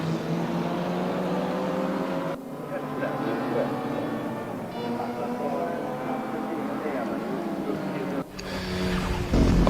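A Porsche GT race car at Mantorp Park, its engine droning loud and steady at high revs, the pitch rising and falling through gear changes, with a commentator talking over the top.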